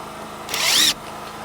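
A power drill drives a screw into a wooden roof rafter during roofing work, one loud steady whine lasting under half a second that rises in pitch, then stops abruptly.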